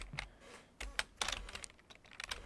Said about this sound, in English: just press everything on your keyboard